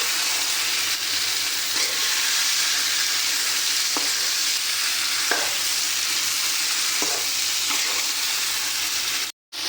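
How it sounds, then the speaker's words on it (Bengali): Tomato chutney sizzles steadily in a frying pan while it is stirred, giving a continuous bright hiss broken by occasional soft scraping clicks, which ends in an abrupt cut. "এখন কিন্তু এটাকে সুন্দর মতো লাড়াচাড়ি করে একদম ভালো মতো মিশিয়ে নেব"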